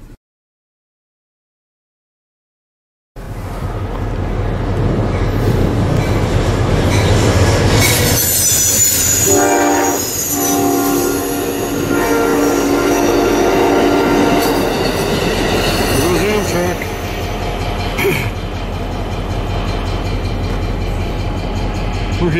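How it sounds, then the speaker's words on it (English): An Amtrak passenger train passes by in Michigan City, Indiana, arriving suddenly after a few seconds of silence, then loud, continuous rolling rumble with squealing wheels and clatter lasting about twenty seconds, no talk. "Amtrak just went by"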